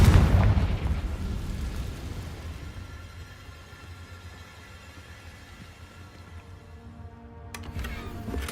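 A Confringo blasting spell in Hogwarts Legacy explodes with a loud, booming burst at the very start, then rumbles and decays into a low, lingering roar, with a faint crackle near the end.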